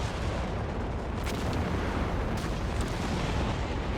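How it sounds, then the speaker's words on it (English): Creeping barrage artillery fire in the video game Company of Heroes 3, a dense continuous rumble of distant shelling with a few sharper bursts standing out, loud and steady throughout with no talking. "Using the creeping barrage here."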